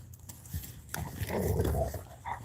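A dog growls on a walk outdoors. Low, rumbling growls come in uneven bursts, swelling louder toward the middle, fairly close and with no talking.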